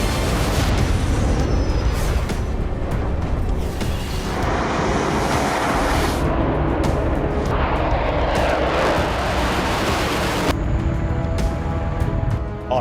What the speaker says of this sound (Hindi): रूस के 2 Sukhoi Su-27 flanker jets Baltic state reason के हवाई क्षेत्र में उड़ान भरते दिखे हैं